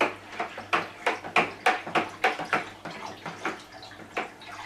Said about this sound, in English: Just give this a good stir now